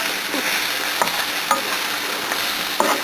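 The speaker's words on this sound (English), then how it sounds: "So we're going to add our mushrooms to the mix." Mushrooms hitting a frying pan with onions sizzle steadily and close, with a few sharper clicks of stirring over the constant hiss.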